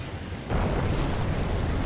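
Bomb growth bursting in Darksiders, a sudden deep blast at about half a second that then rolls on as a heavy, sustained rumble.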